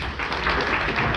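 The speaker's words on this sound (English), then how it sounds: "Give a round of applause to any and all veterans that are here today." Audience applause for veterans at a live show: a dense, steady wash of many hands clapping, loud and sustained throughout with no pauses.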